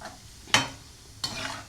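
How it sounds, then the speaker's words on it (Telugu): Cashews frying in a pan for boondi laddu, a soft steady sizzle broken by two sharper stirring scrapes, close and fairly quiet. "ఇప్పుడు కొద్దిగా జీడిపప్పు అనేది వేయించుతున్నాను అందులో వేయడానికి"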